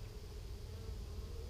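Honeybees hum steadily inside an opened hive whose queen is laying drones and whose worker population is short. The buzz is a dense, continuous drone that holds even and close throughout, with no talking over it.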